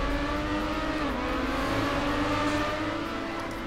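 A race car in Trackmania drives steadily with a sustained engine drone and tire noise at a constant, fairly loud level throughout.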